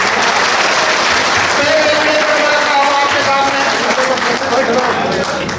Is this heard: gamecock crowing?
no